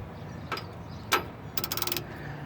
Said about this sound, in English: Get our ratchet on the end here.